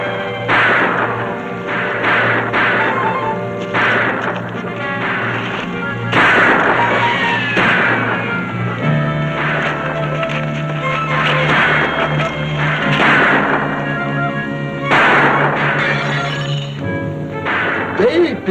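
Gunfire cracks out repeatedly during a shootout in a black-and-white-era western TV show, with loud, sharp reports scattered over dense background sound and voices talking.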